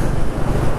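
Wind gusts through the desert village of Kuldhara near Jaisalmer, a brief, loud, steady blustery roar buffeting close to the microphone.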